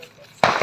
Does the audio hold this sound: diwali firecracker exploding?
yes